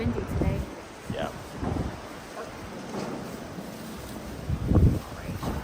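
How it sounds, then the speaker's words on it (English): Gusty wind buffeting the microphone in low rumbling bursts, loudest near the end, with some muffled voices mixed in. "It's sure windy today."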